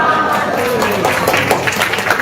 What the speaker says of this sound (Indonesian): Ini tepuk tangannya kurang kencang ini.